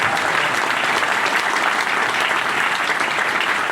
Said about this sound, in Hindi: एक बार आगे से पीछे तक तालियां अनिल के लिए आपके हाथ